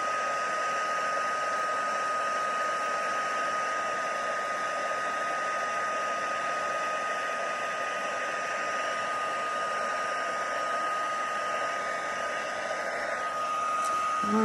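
A heat tool blows a steady, loud whooshing hiss without a break as it melts embossing powder on a papercraft gift card holder, with a small clunk right at the end.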